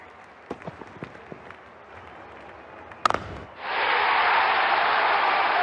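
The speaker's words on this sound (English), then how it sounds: "Crowd is going crazy." During a T20 cricket match between Guyana Amazon Warriors and Barbados, the stadium crowd erupts after a six. A few scattered claps and a sharp crack lead into a sudden, sustained roar of cheering.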